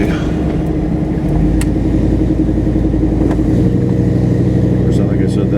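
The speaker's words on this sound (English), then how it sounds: "Lots of cars out today." Cars pass in traffic during an April 2020 drive, a loud, continuous engine rumble with rushing tire noise and a deepening hum as vehicles move by nearby.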